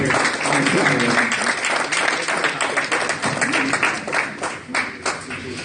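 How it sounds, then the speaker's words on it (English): Audience applause at a community gathering on economic empowerment, loud close-up clapping from a crowd with uneven rhythm and fluctuating intensity, voices mixed in among the hands. "give yourselves a hand for coming out here on Saturday"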